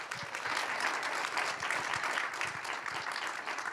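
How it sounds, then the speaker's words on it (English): An audience applauds for university panelists at a leadership event, a full, sustained round of clapping with a few sharper individual claps standing out near the front. "just a round of applause for our panelists"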